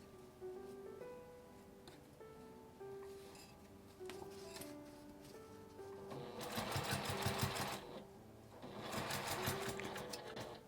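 Sewing machine stitching a flap mini pouch, slowing through thick seam allowances: spaced bursts of rapid mechanical clatter give way to louder, faster runs of stitching toward the end, close and clear without talk.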